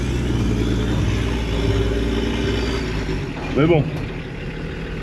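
Motorized homemade prototype vehicle driving, its engine droning with a steady low harmonic hum that drops off near the end, under French conversation.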